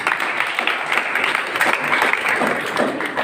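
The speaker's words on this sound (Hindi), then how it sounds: "एक बार ताली बजाओ भाई।" An audience at a school event claps in a steady, continuous round of applause lasting the whole stretch, moderately loud and close, with faint voices underneath.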